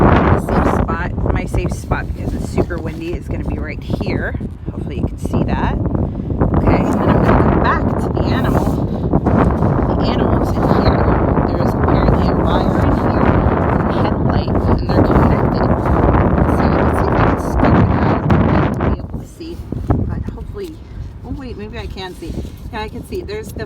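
Strong wind buffets the microphone nearly continuously in loud, roaring gusts, with a person talking underneath, dropping off briefly near the end.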